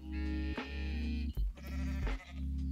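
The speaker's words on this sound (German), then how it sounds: "Da ist doch eine Ziege drin." A goat in the farming game Coral Island bleats in several loud, drawn-out, quavering calls separated by short breaks, close and clear with no talking.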